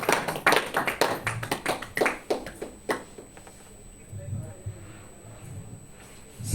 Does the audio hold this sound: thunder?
no